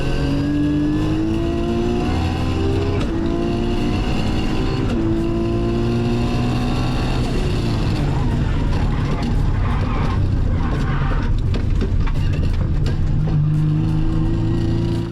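A Nissan GT-R race car lapping a track, its engine loud and close, revving up and shifting through gears in a continuous roar with rising and falling pitch.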